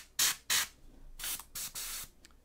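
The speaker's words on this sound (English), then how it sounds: "So I'll spray a little shadow on the backside of his staff over here to match my light sources." An airbrush spraying a little shadow onto the back of a figure's staff while priming, heard as five short, soft hissing bursts, close and isolated, with brief pauses between them.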